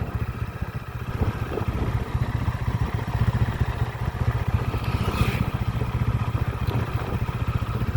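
Motorcycle engine idling steadily at close range, a continuous low throbbing rumble with some rattling clatter, no voices present.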